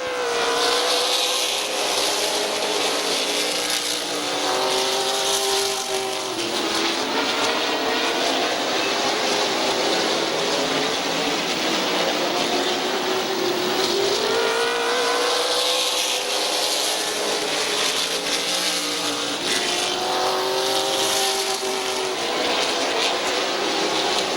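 Race cars roar around the Midvale Speedway oval, one driver fighting a loose car off the corners; a loud, continuous pack of engines swells and fades in pitch as the cars sweep past, with no talking.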